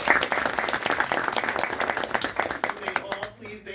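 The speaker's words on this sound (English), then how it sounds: "join me in giving our moderator and panelists a round of applause for their amazing" An audience at a United Nations education forum applauds its moderator and panelists, a dense burst of clapping that tapers off near the end.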